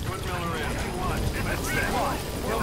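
A helicopter arrives in Metal Gear Solid V, its rotor whir and engine rumble a continuous, moderately loud wash under someone talking.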